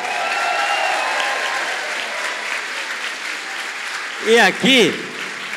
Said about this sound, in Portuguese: isso merece uma salva de palmas